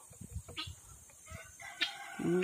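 Chickens or ducks clucking and crowing close by in a rural yard, a few short, irregular calls with one rooster-like crow rising near the end.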